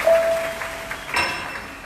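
A church congregation breaks into brief applause, a soft, diffuse patter heard alongside thin ringing tones, swelling slightly before it fades.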